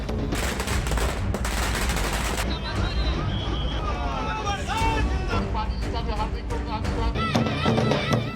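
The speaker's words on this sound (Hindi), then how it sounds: "ढोल नगाड़ा, धूम धड़ाका और आतिशबाजी।" Fireworks crackle and bang alongside pounding dhol and nagada drums at a political party celebration outside a state office, loud and continuous, with crowd noise throughout.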